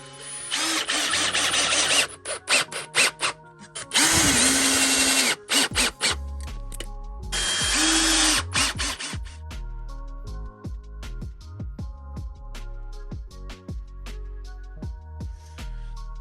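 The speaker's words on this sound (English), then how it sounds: "So now we've got a drill in hand." A power drill drives screws in three loud bursts of a few seconds each, separated by clicks and handling clatter, followed by ringing, tonal knocks.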